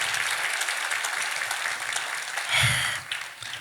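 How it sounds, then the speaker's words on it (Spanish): A church congregation applauds, a continuous wash of clapping from many people, fairly loud and steady, swelling briefly near the end with a few cheers. "Denle un aplauso al Señor."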